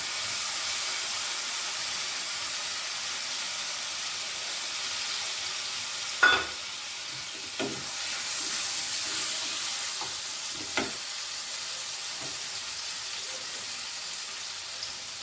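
Spices frying in hot oil for a Bengali broccoli sabji, giving a steady loud sizzle with a few sharp crackles and stirring scrapes, no talk.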